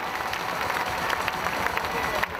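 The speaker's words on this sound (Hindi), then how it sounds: "एक बार जोरदार तालियां होनी चाहिए" An audience in an indoor stadium at a recognition program applauds, a dense, sustained wash of clapping with some crowd noise mixed in, moderately loud and steady throughout.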